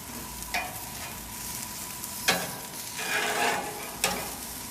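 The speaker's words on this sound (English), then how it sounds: "Now the onions are cooking a little bit." Thick slices of Vidalia onion cook on a grill with a faint, steady sizzle. A few soft scrapes and clicks of turning stand out briefly, and nobody speaks.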